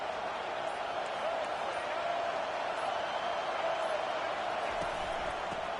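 Football stadium crowd keeps up a constant, loud roar of cheering, a dense wash of voices with no breaks from start to finish.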